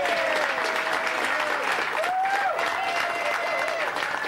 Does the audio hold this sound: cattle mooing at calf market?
no